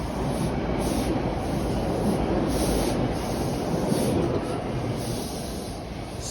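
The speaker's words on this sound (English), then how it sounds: "I can hear a train coming. And it's coming from the tunnel." A TTC Line 2 subway train approaches from the tunnel between Royal York and Islington as a steady broadband rumble and rush. It is fairly loud and sustained, with no talk.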